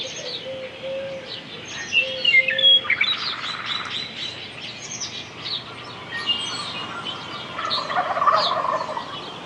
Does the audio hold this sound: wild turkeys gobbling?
yes